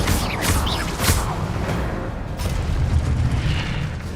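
Incendio fire spell cast in the video game Hogwarts Legacy, a loud roaring whoosh and booming blast at the start that fades into a rumbling burn, with no voices.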